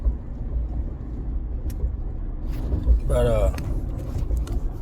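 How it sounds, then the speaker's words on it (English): Steady low engine and road rumble from inside a car being driven home, continuous throughout, with someone talking over it. "so I'm driving home right now"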